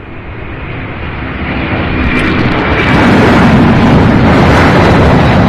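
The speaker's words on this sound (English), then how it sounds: "Beautiful takeoff." A jet takes off at Louisville International Airport, a broad, loud roar that swells over several seconds and then holds steady, heavy in the low end with wind buffeting the microphone; no voices.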